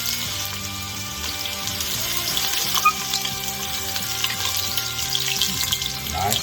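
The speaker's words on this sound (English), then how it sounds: "Go ahead and soften these onions." Onions softening in butter in a hot pan give a steady, close sizzle and frying crackle throughout, with occasional stirring clinks and no talk.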